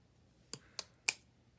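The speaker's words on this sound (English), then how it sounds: "Let's see if I can cut that off." Three crisp scissor snips cutting a button free during a Christmas journal craft, close and fairly quiet, spaced about a quarter second apart with silence between.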